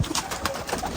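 A pigeon, a Chalkoti crossed with a Rampuri in Rampur, gives soft, close cooing calls in a short burst against a background hum.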